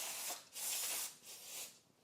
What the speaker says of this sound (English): Now we want to hit this with some brake cleaner.